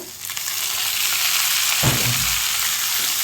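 Onions frying in a pan for a bitter gourd curry. A steady bright sizzle runs throughout, with a brief clatter of stirring midway, close and alone.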